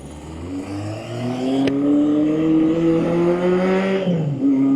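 A Honda CB750 restomod motorcycle engine drones loudly while riding, its pitch holding steady then sagging as the RPMs drop, before picking back up at the end.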